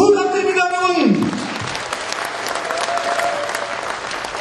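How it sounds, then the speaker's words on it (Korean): At a political party rally, a speaker's voice trails off and a large audience breaks into loud, sustained applause, the dense clapping continuing evenly to the end. "제 말씀에 동의하시면 박수 한번 부탁드립니다"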